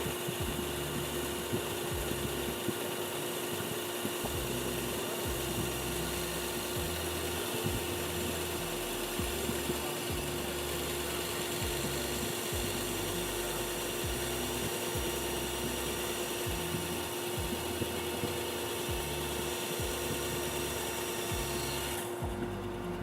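A bandsaw cutting steadily, a continuous close, rasping and whirring drone with a rhythmic rough grinding texture that carries on throughout.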